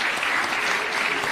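A brief, even stretch of warm audience applause for the President at the YouTube Black Voices closing ceremony at State House, many hands clapping densely with no talk over it.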